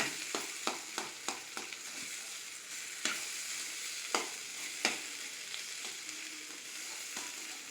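Potatoes fry in hot oil under a soft, steady sizzle. A spoon strikes the pan in a quick burst of clacks near the start, then gives a few scattered scrapes and taps as the potatoes are stirred.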